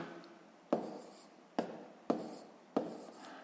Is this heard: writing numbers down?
yes